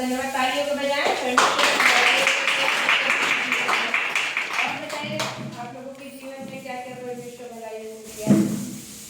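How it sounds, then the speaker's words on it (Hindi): Worshippers at a Christian prayer meeting break into a burst of rapid hand clapping that fades out, while a voice keeps speaking and song-like tones run beneath. "प्रभु का धन्यवाद तालियों को बजाएं"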